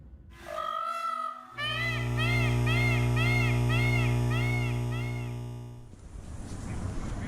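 A cat gives a short meow, then a long, loud, drawn-out wavering yowl that trails off, close to the listener.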